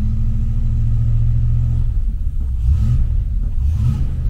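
A Rover P6 V8 with automatic transmission rumbles loud and close, its engine note rising and falling through several throttle blips in the second half.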